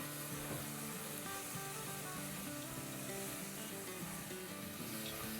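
Spices sizzle and fry steadily in a hot pan for masaledar Gujarati khichdi, a constant close crackling hiss with faint clinks underneath and no talk.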